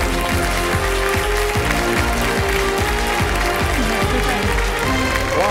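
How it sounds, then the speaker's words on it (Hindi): A television game-show studio audience claps steadily and loudly to welcome a contestant, a dense, sustained applause with a rhythmic beat running underneath, without pause. "जोरदार तालियों से मैं चाहता हूं कि उनका स्वागत किया जाए।"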